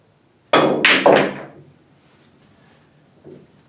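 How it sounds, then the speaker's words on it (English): Pool cue striking the cue ball into an object ball for a hard follow shot: a sharp close crack followed quickly by two more clacks as the balls collide, then a faint later knock. "this is the last shot I'm going to shoot, and I'm just going to go into a follow shot, a hard follow shot"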